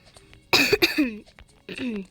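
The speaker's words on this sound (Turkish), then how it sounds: "Hala öksürüyorum." A person coughs a few times close up, a sharp burst followed by another short cough, with a brief vocal sound between.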